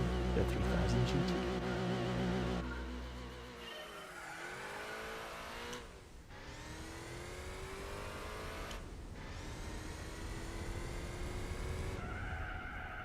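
Mitsubishi 3000 GT in Gran Turismo 4, an engine revving hard under acceleration, then braking with tire squeal and skidding, with repeated rising and falling gear-change sweeps, loud and continuous.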